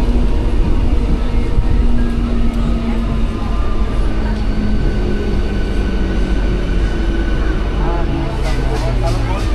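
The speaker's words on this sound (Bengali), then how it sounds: "তো ট্রেন এখন পৌঁছালো আমাদের আশাপূর্ণা দেবীতে" A passenger train draws into Ashapurna Debi station, a steady close rumble of wheels on rails carrying a drawn-out tonal whine that bends and fades as it slows.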